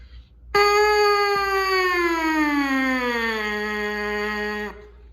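A buzzy trumpet mouthpiece tone held steady, then sliding smoothly downward in pitch and sustaining before stopping, like a slow descending siren.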